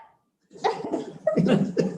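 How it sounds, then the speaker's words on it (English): A few harsh, throaty allergy coughs in quick succession after a brief silence, close and fairly loud, during a school board meeting. "I was just coughing because my allergies are really bad"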